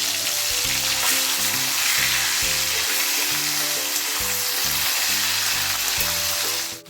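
Black pomfret fish frying in hot oil, a loud steady sizzle that continues unbroken throughout with low background clatter, no voices.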